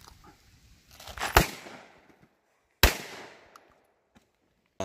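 Two sharp 5.7mm pistol shots fired outdoors during a water test, spaced about a second and a half apart, each a loud crack with a short echoing tail.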